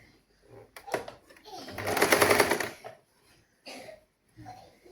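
A sewing machine stitches a saree blouse in a short run of about a second, with brief rattles before and after and a voice heard at moments.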